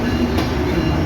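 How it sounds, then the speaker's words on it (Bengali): A passenger train returning from Rajshahi to Dhaka after Eid rumbles past close by, a steady loud roar with no break for the whole short stretch. "ট্রেন আসতেছে, যাইতেছে।"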